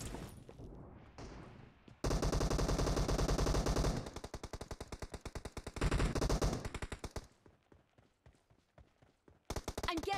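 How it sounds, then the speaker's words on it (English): Automatic gunfire in a PUBG team deathmatch, long loud bursts of rapid machine-gun shots with short pauses between volleys, a voice shouting during the shooting. "I'm getting shot!"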